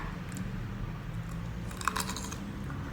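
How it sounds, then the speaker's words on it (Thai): A brief cluster of crisp crunching as teeth bite into a large, crunchy pickled jujube, heard close but soft against a quiet background. "กัดลงไปคำแรกกรอบมากค่ะ"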